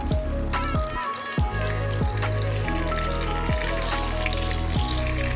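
Chicken masala pieces frying in oil in a pan, a steady bubbling sizzle running loud and close throughout, with a few brief clatters of turning the pieces.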